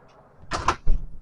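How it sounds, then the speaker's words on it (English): A motel room door swings shut roughly, a loud close scraping push followed by a heavier thump as it latches. "Door closes a little rough, but pretty nice."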